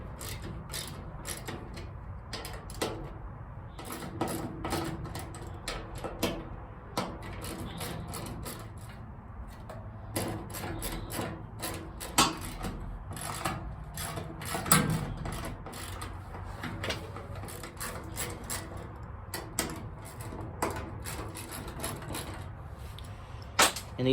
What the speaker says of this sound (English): to get the fuel pump bracket out, this is a 7mm socket.